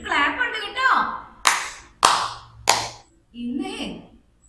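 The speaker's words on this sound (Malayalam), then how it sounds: "അതിന് എല്ലാവർക്കും ടീച്ചറുടെ വക ഒരു ക്ലാപ്പ് ഉണ്ട് കേട്ടോ" A teacher claps three sharp, separate times during an online class for young children, with her voice speaking before and after the claps.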